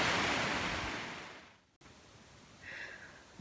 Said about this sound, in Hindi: ये देखिए पानी जो कि हिमालय को छू करके यहाँ तक आया है, और हमेशा इस तरह का आवाज़ होता रहता है यहाँ पर